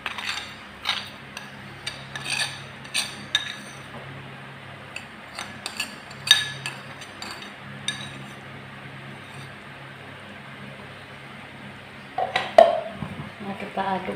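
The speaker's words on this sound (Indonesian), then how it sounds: "kita aduk dulu" A spoon stirs roasted coconut mixture in a cooking pot, making faint, scattered metallic clinks and scrapes in uneven bursts, with a louder clatter near the end and occasional talking.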